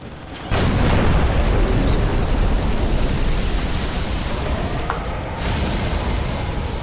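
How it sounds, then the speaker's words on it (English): A loud, sustained blast erupts in Halo 3 on Legendary difficulty, a sudden onset of broadband roar that stays heavy and rumbling for several seconds before slowly easing, with a brief sharp crack near the end. "Yeah! Explosion!"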